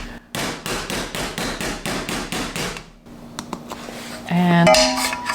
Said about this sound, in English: I'm gonna tamp it down.